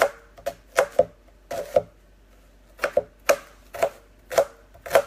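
A Cuisinart knife chops vegetables on a board in quick bursts of sharp taps, pausing between clusters, close and clear with no speech.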